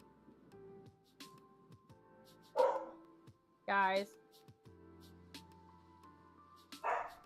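Indoor dogs bark in scattered bursts, fairly close, while a neighbor's lawn mower drones faintly outside and a person speaks between barks.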